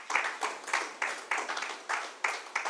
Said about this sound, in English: Can we get just a round of applause for Oxfam in Uganda?